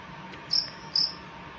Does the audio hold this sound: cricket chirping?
yes